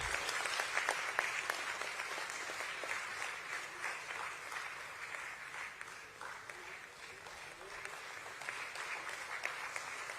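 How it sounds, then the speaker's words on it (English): An audience at a Jio Financial Services corporate event claps continuously for about ten seconds, a dense, steady and fairly distant wash of applause with no talking. "I want the loudest applause for this lady, Ms. Jayashree Rajesh"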